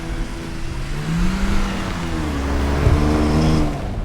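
A 2018 Porsche Macan drives on snow with traction control off, its engine droning steadily and then rising in revs, heard from inside the cabin and fairly loud throughout.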